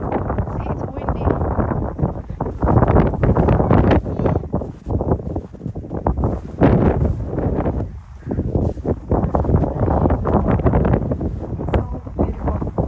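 Outdoors in a snowstorm, gusty wind buffets the microphone almost continuously with a loud, rumbling roar, easing briefly near the end, while voices talk over it.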